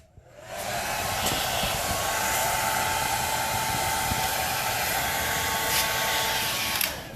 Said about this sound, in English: I'm going to go ahead and hit it with the heat source and try to get it to stick